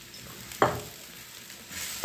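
Masala frying and being stirred in a pan for a country-style black chicken curry, a faint steady sizzle with a couple of brief scraping stirs, quiet and alone.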